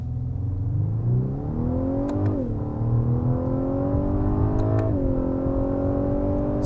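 A 2021 Lexus LS 500 launches hard from a standstill, its engine note climbing steadily through two upshifts with brief dips, loud and sustained from inside the cabin, with no talking.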